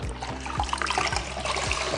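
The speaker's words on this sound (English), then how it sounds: "Wring the cloth right out." Water trickles and splashes into a bucket as a lint-free cloth is wrung out above it. Close, soft dribbling with a few thumping handling knocks is heard over about two seconds.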